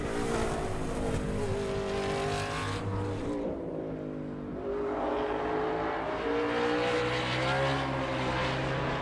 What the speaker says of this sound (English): Spun the tires.